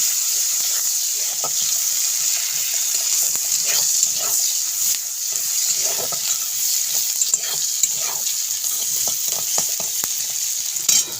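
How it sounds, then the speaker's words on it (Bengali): Onions sizzle and crackle steadily in hot oil, a continuous frying hiss with occasional scraping as they are stirred. "তেল গরম হয়ে গেছে এতে আমরা এবার পেঁয়াজটা দিয়ে ভেজে নেব"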